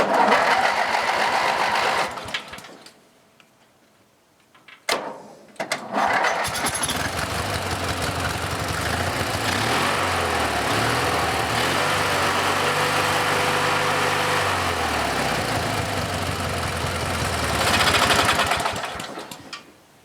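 A small engine that had sat unused for a while runs choked with a rapid, buzzing idle, cuts out briefly, then restarts and settles back into a steady nearby chatter.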